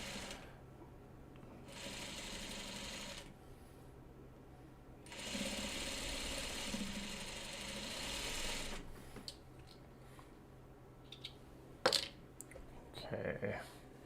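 A sewing machine stitches a quilt block, Farmer's Wife block no. 13 Buckwheat, in two sustained runs of steady motor whir separated by pauses, with a few small handling clicks and rustles near the end.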